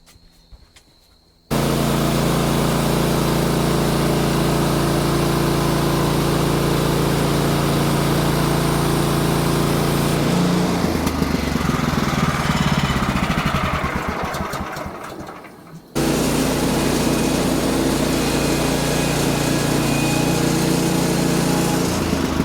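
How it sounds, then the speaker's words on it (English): A manual sawmill's small engine starts up and runs loud and steady, dips and strains briefly as it cuts lumber from a slab, cuts out, then resumes running at a constant pitch. "let's fire up the mill, see if we can get one more 2x4 out of this slab"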